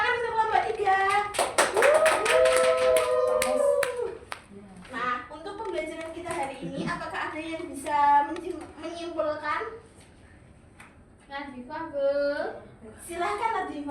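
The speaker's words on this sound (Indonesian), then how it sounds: "Tepuk tangan untuk kelompok 3." A classroom of students claps for a group after a microteaching presentation on the excretory system, with a short burst of clapping near the start followed by children and a teacher talking.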